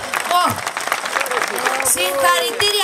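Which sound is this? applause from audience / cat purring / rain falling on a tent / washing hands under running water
applause from audience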